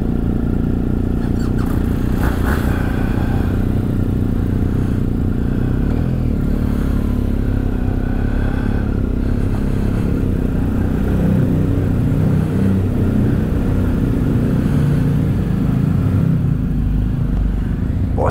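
A motorcycle engine running loud on a cold start during a road trip in France, a constant rough, rumbling roar with rattly clatter, close and steady throughout.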